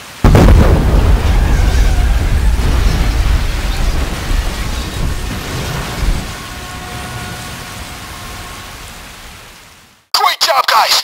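A huge explosion blasts on Green Bridge in the video game Payday 2, a loud boom followed by a long rumbling, crackling decay that fades out before a cut to other sound.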